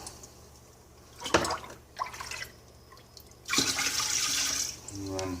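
Hemp tea kombucha is dipped and poured, giving short liquid splashes followed by a longer steady pouring gush, close by and fairly quiet, with no talk.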